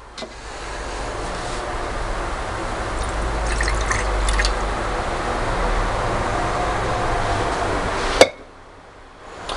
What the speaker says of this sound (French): donc en gros on va mettre 250 ml d'eau